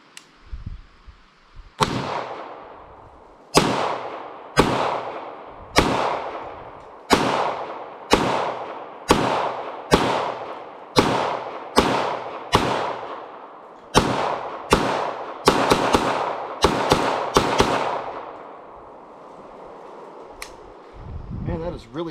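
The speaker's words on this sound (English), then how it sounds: "Man, that is really soft shooting." An SCW pistol fitted with an arm brace fires about fifteen sharp shots in a steady, unhurried string, each crack followed by a short decay, heard outdoors with no talking.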